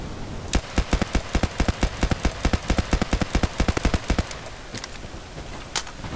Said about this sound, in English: So now we're going to move on to medium range tap firing.